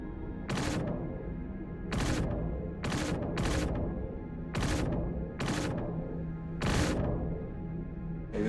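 Weapon bursts from the Banu Defender spaceship in Star Citizen: seven short, loud broadband blasts at irregular intervals over a steady low engine hum, with no talking.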